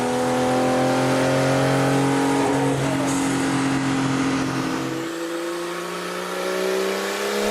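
Loud, close roar of a Porsche 935 race car engine held at high revs, then easing off slightly toward the end, steady and unbroken.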